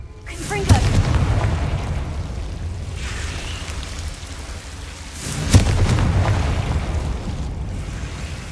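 Two booming spell blasts from Confringo in Hogwarts Legacy, each a sharp thump that rolls out into a long rumbling tail, a few seconds apart over a steady ambient wash.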